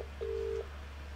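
A phone rings in the 2015 FMV adventure game Contradiction: one steady electronic ring tone lasting under half a second, moderately loud and alone, with no talk.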